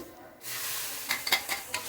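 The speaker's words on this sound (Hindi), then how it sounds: "तो मैंने इसमें डाल दिया है हल्दी, मिर्च, और इसको भी मैं अच्छे से भून लूँगी।" Turmeric and chili spices frying in a pan, a steady close sizzle with a few short stirring scrapes and clinks toward the end.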